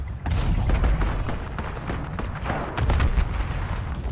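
A grenade goes off in a video game, a loud booming blast followed by further rumbling explosions and gunfire-like cracks that continue through the moment, with no one talking.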